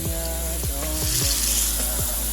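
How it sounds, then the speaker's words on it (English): Loud, continuous sizzling of pork chops searing in a hot pan, close by, with a faint hum and a few soft knocks underneath. "You want to hear that nice sizzle."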